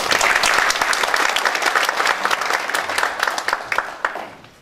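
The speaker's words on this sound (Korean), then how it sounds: "큰 박수 부탁드립니다." Audience at a Korean policy forum and luncheon breaks into brisk applause, many hands clapping loudly at first and then gradually thinning and fading toward the end.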